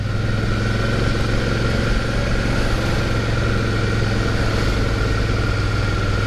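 Suzuki V-Strom DL 650 motorcycle engine braking, a constant loud droning engine note with steady low rumble and wind, heard from the rider's position with no talk.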